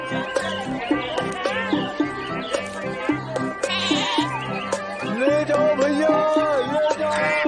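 A goat bleats repeatedly at a market in loud, close, wavering cries, with faint chirping and steady background sound.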